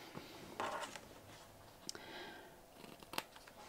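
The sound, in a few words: scissors cutting a square of extra thick interfacing fabric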